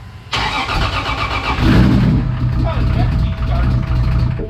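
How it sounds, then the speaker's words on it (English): A restored Toyota Supra engine is cranked and fires abruptly, then runs loud and close with a rough, busy idle while voices react over it. "we are just about ready to try to fire this thing back up"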